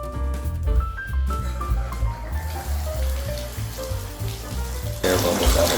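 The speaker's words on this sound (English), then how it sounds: "Air bubbles out of the pipes" Water gushes from a Delta single-handle tub and shower faucet as trapped air sputters and bubbles out of the pipes, steady and close with uneven surging bursts.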